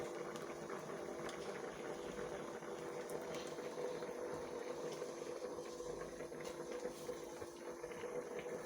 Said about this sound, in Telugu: ఇప్పుడు చూడండి ఇలా ఉడుకుతుంది కదా